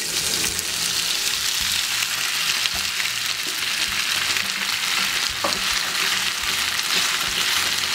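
Sliced potatoes fry in hot oil in a pot, a steady, close, dense sizzle with occasional stirring scrapes throughout, no voices.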